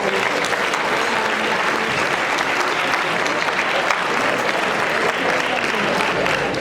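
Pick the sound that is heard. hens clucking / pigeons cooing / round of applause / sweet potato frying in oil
round of applause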